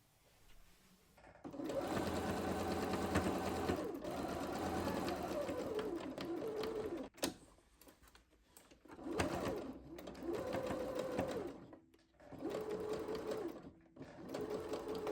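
A sewing machine stitches a sleeve into the armhole of a milkmaid-style dress. It runs in close, whirring bursts separated by short pauses, with several stops and starts toward the end and no voices.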